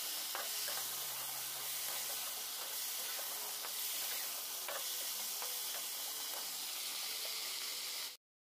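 Pointed gourd (potol) fries in a pan with a steady, hissing sizzle and scattered faint pops and clicks, heard from a little distance before cutting off abruptly.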